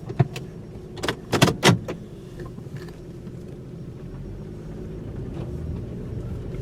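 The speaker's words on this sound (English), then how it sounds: "I'm going to let the car warm up for just a minute because it's kind of cold out, and then we'll take it for a spin" Toyota Camry idling on a cold day with a few sharp clunks and jangles near the start, then a steady low engine rumble building as the car pulls away, no talk.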